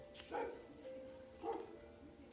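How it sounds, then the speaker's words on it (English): Two faint dog barks from a distance, spaced about a second apart, over quiet background hum. "Sorry about the dogs outside."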